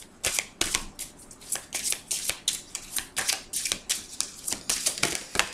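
Tarot cards are shuffled by hand, close up, in a brisk run of riffling bursts and soft slaps that repeat steadily until a card flips out.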